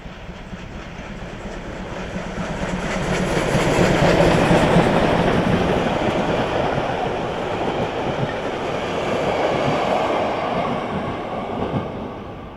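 A museum train hauled by locomotive 50 3648-8 rushes past on the line near Dresden. The rumble swells as it nears, with rhythmic clickety-clack of the wheels, then fades and rises again as the cars roll by.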